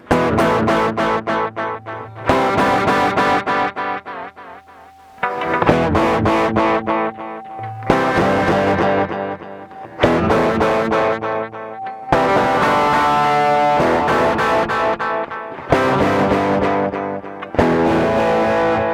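Distorted electric guitar chords through a distortion pedal ring out loud and gritty, struck in separate phrases with short gaps, no voices.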